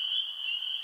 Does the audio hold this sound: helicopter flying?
no